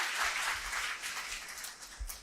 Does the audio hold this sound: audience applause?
yes